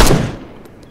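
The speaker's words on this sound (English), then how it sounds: "just pretend it's two people goofing off with the light machine gun here. Or the, I'm sorry, the machine gun installation" Single loud burst from a machine gun installation in a military shooter, a sharp close report decaying quickly.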